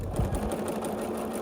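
A sewing machine stitches scrappy quilt block pieces together, a steady close whir with a fast rhythmic needle patter.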